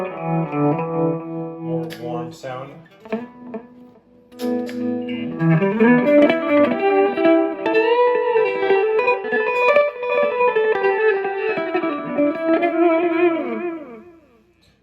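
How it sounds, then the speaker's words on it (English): An electric guitar runs through a tape echo pedal, sustained chords and sliding notes trailing warm repeating echoes, loud and close, with someone speaking briefly. "I've got tape echo."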